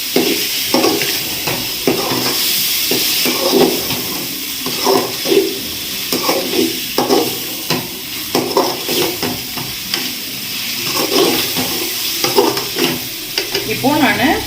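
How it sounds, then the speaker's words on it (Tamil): Chicken sautéing for biryani in a hot pan, with a steady loud sizzle and frying hiss throughout and repeated scraping stirs of a utensil against the pot at close range. "கொஞ்சம் சிக்கன் நல்லா வதங்கணும்."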